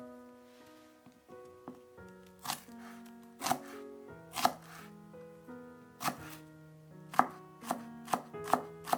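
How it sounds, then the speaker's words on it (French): Three shallots finely chopped with a knife on a cutting board, sharp chops in irregular bursts that speed up toward the end, over soft background music with no talking. "Je coupe finement 3 échalotes."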